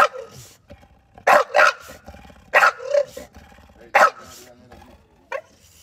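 A dog gives several loud, harsh barks in short bursts, with low growling rumbling between them, close by and without speech.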